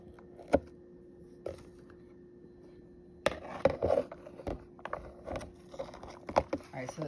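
A knife dices vegetables on a cutting board while turkey meatballs are prepared, giving sparse sharp knocks at first and then a quicker, irregular run of close chopping taps.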